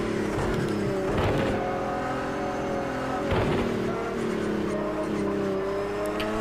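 A GTE race car engine at Spa-Francorchamps in Project Cars 2 drones loud and close at high revs, its pitch rising steadily with two brief dips at gear changes.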